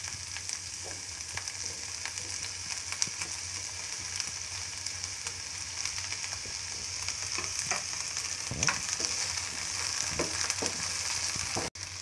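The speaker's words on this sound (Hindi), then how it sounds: "हमारा प्याज और शिमला मिर्च फ्राई हो चुके हैं" Sliced onion and capsicum sizzle steadily in oil in a pan while cooking paneer sabji, a continuous crackling hiss with faint scattered pops and a sharp click near the end, with no talking.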